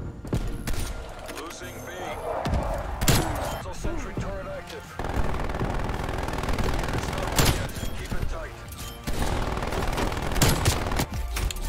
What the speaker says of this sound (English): Oh, I died by the sentry gun.